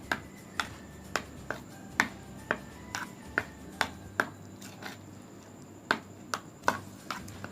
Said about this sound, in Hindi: अब इसको मिक्स कर लेते हैं।